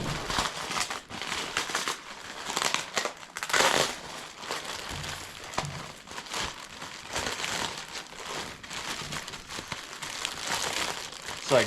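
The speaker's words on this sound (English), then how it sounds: "let's go ahead and unwrap this plastic and see how it looks." Plastic wrap is peeled and crumpled off a used engine bought for a Yamaha TTR-90E, giving close, continuous crinkling and crackling in irregular bursts, with no voices.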